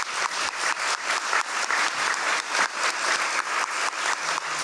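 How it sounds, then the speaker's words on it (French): A crowd at a university student gala claps steadily, with rhythmic, even applause filling the room for several seconds. "On peut les applaudir, s'il vous plaît."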